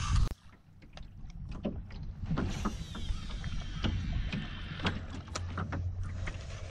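A small fishing boat rattles loudly on open water in Canada, with continuous clattering and knocking over a steady engine-like drone and wind, close and harsh throughout, with no voices.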